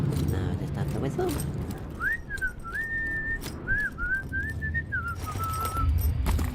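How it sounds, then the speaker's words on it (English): A person whistles a short wavering tune of several rising and falling notes, fairly clear over a noisy background with some voices and clatter around it. "Now I just have to whistle."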